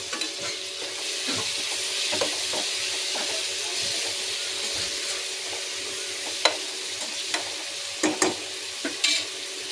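Cauliflower and tomato curry fries in a pan with a steady hiss and sizzle. Occasional sharper scrapes and clinks of stirring stand out, especially near the end.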